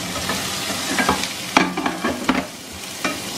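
Pancit canton noodles with vegetables and onion stir-fry in a hot pan, a continuous sizzle broken by sharp scraping and tossing strokes of a spatula, close up and without speech.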